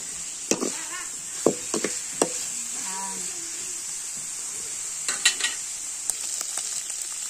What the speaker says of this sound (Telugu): నూనెలోనే వేయించాలి మెల్లగా బాగా నూనెలో వేయించాలి కరువాళ్ళను